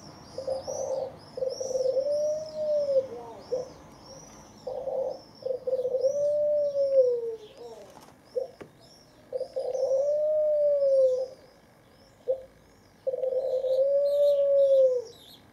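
Soft, repeated cooing from turtle doves in slow phrases with pauses between, plus faint high chirps and twitters from starlings in the background.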